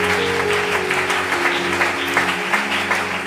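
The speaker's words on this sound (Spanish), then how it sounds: "Denle ese aplauso a Jesús." A church congregation applauds steadily during a worship service, dense clapping that fills the room for a few seconds over a sustained organ or keyboard chord.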